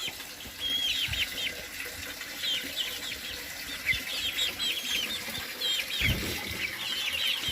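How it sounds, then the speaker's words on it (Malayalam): About twenty native hens in a coop on a terrace garden cluck and chirp steadily, with wing flaps and light rustling scattered throughout at close range. "ഇത് ഏകദേശം ഒരു ഇരുപതോളം നാടൻ കോഴികളാണ് ഇതിൻ്റെ അകത്തുള്ളത്"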